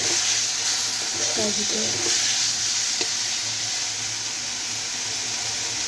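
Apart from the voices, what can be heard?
spice paste of onion, garlic, chili frying in hot oil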